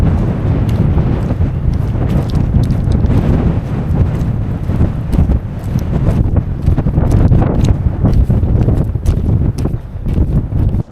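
Heavy wind on the summit of Skiddaw buffets the microphone continuously, with rough gusty roaring and irregular thumps, loud and close throughout.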